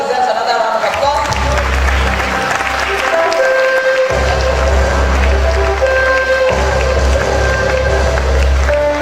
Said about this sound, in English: Vice Chancellor deserves another round of applause